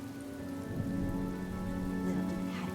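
Steady rain falls in a cutscene from the video game Honkai: Star Rail, a dense, even hiss with faint distant thunder rumbling underneath, continuous and unbroken with no voices.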